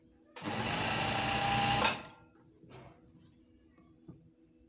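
Electric sewing machine stitching a straight seam on a shirt, one loud steady run of about a second and a half, then it stops and faint handling noises follow.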